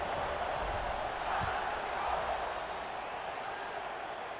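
A stadium crowd in EA Sports College Football 26 buzzes steadily after a score, a dense, distant roar holding at a constant low level throughout.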